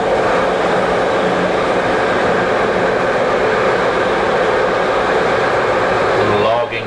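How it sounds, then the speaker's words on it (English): A Swiss train travels through the countryside with a steady, loud rumble of wheels and carriage noise that continues unbroken from start to finish. "just the ordinary sights traveling through the countryside by Swiss train"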